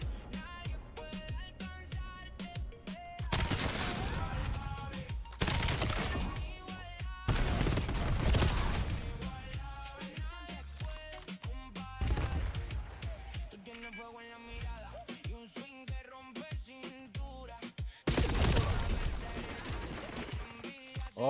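Gunfight in the video game Call of Duty, with repeated bursts of rapid gunfire and sharp shots loud and close, alternating with quieter stretches of game sound.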